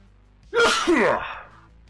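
A single loud, close sneeze bursts out abruptly, with a sharp intake and explosive release that quickly fades into quiet.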